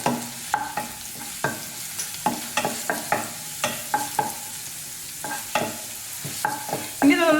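Crushed garlic and ginger sautéing in a pan for an egg roast, with a spoon scraping and stirring in repeated strokes over a steady, close sizzle and occasional clinks.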